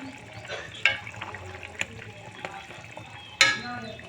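Rohu fish curry with potato, ridge gourd and vegetable stems simmers in a pot, a soft steady bubbling hiss broken by a couple of sharp clinks from utensils.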